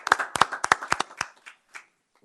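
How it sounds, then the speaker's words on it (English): A few people clap sparsely at a city council meeting, about ten separate claps in a quick uneven patter that thins out and stops within two seconds. "Round of applause for them."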